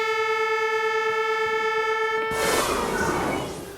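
Horns sound to mark the start of roadworks: a loud, sustained tonal blare holds steady for a couple of seconds, then cuts off and gives way to a burst of broad noise that fades out.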